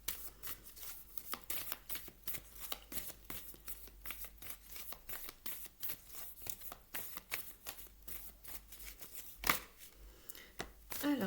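Tarot cards being shuffled up close, a long run of quick, crisp riffling slaps and flutters in an irregular rhythm, fairly quiet, with one louder knock near the end.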